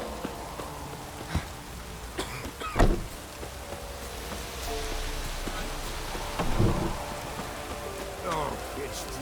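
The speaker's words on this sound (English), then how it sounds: "it's drizzling" Rain falls steadily in The Witcher 3 video game, with brief rumbles and cracks of thunder cutting through a dense, soft wash of drizzle, alongside a few faint game effects.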